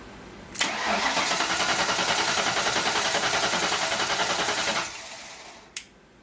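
A Camaro's engine cranks and catches, running with an even pulsing idle for about four seconds before shutting off, followed by a brief click.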